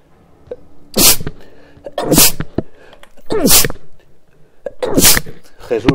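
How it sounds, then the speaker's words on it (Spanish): A person sneezes several times in a row, four sharp, loud bursts spaced about a second apart, each with a breathy intake between them. "Prefiero que me escuchéis estornudar."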